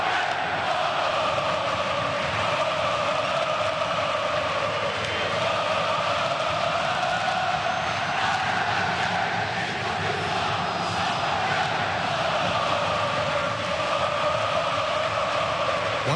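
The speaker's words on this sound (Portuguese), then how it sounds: "Canta alto o torcedor do Fluminense no Engenhão." Fluminense supporters sing loudly at Engenhão stadium during a Carioca championship final against Botafogo, a dense, steady crowd roar carrying on throughout without pause.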